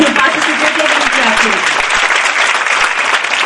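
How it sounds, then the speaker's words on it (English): Montessori workshop participants clapping for themselves: a loud, sustained round of group applause with talking and voices mixed in underneath. "So give yourself a clap"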